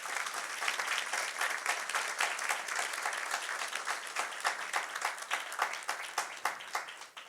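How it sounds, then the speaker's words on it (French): A church congregation applauds during a worship service, a dense, sustained patter of many hands clapping together that continues steadily throughout, with no speech over it. "Acclamons très fort le Seigneur."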